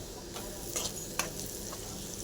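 Sliced bitter gourd (kakarakaya) fries in a pan with a steady, faint sizzle, punctuated by a few soft scraping stirs of a spoon, with no voices.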